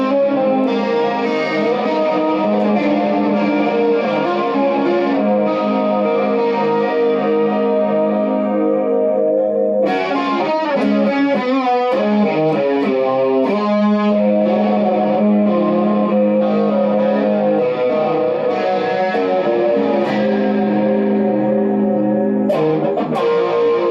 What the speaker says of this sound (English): I'm going to entertain you, inform you with some distorted playing using the chorus feature